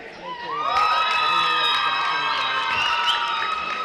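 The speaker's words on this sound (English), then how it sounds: "There's a very large cheering squad here for Northland Parkway Nighthawks" Northland Parkway Nighthawks fans, a large cheering squad at a girls' varsity basketball game, shout and whoop together in a loud sustained roar, with many high voices layered in the gym.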